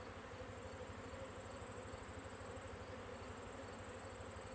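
Honey bee foragers fly out of an opened hive, making a faint, continuous buzzing hum that holds steady throughout with no talking.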